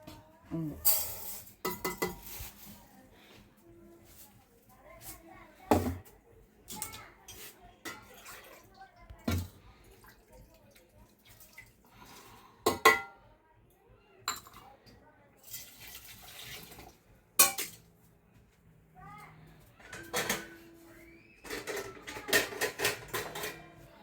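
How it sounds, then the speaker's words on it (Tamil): Three-quarters of a tumbler of dal is rinsed in water in a kitchen, with intermittent splashes, swishing and clinks of a metal vessel, separated by quiet gaps. "இப்போ பருப்பை கழுவிட்டு"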